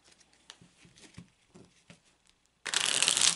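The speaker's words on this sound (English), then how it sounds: "I'm going to take a few moments to shuffle the cards." A deck of playing cards is riffle-shuffled on a table in one loud, crisp burst near the end, after a few soft taps and handling sounds.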